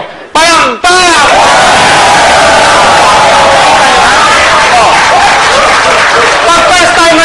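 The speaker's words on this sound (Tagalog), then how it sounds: "Sabay-sabay, ha? Oh, 1, 2, palakpak!" An indoor audience bursts into loud, unified clapping on cue after a brief spoken count, with cheers and a voice shouting over the sustained applause.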